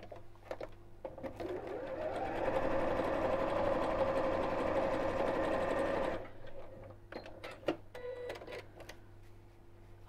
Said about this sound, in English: we're going to sew down each side, but leave a turning gap in one side